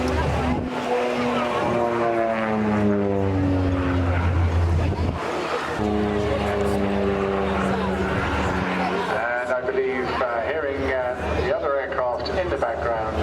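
Bristol Blenheim propeller aircraft flies past at a seaside airshow on the English Riviera, its loud engine drone rising and sweeping in pitch as it passes, with a commentator talking over it.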